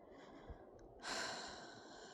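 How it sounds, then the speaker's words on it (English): A person breathes slowly during a guided meditation: a soft low exhale, then a louder, breathy inhalation through the nose that swells and fades, close and quiet, with no talking. "I breathe."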